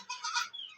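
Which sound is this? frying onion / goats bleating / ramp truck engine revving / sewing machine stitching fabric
goats bleating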